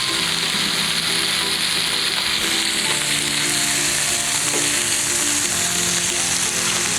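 Chicken pieces for outdoor grilled chicken sizzle steadily in hot cooking oil, a loud, continuous crackling fry with no talking.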